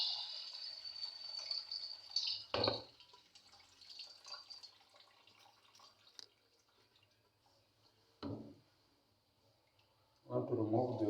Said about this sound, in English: So you have to remove the water